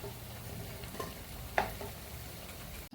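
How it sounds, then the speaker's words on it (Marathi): Quiet sizzle of fasting patties frying in hot oil, a steady soft crackle with a brief stir or clink partway through and no talking. "आता मी हे तळले, आता हे काढून घेते आणि याच प्रकारे दुसरी बॅच पण तळून घेते"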